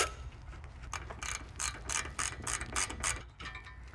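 A ratchet wrench clicks in quick, repeated bursts while loosening bolts on a 2023+ skid plate, the sharp ratcheting strokes close and moderately loud with short pauses between runs.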